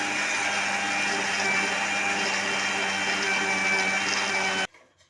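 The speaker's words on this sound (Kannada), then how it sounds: "ಮಿಕ್ಸಿಯಲ್ಲಿ ಹಾಕಿದ ಪುಟಾಣಿ ಚೆನ್ನಾಗಿ ಪೌಡರ್ ಆಗಿದೆ ನೋಡಿ" A mixer grinder whirs loudly and continuously with a buzzing motor tone as it grinds roasted gram into powder, then cuts off abruptly, leaving near silence.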